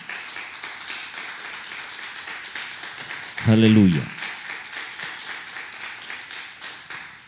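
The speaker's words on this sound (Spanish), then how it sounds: "Denle un aplauso a Dios por esa palabra." A church congregation applauds during a Spanish-language service, the clapping continuous and moderate under a loud sung or shouted exclamation from a voice in the middle.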